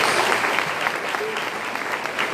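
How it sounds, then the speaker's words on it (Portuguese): A church congregation claps loudly and steadily, a dense, close wash of applause that carries on without a break and with no clear voices over it. "a igreja dê um grande aplauso ao Senhor"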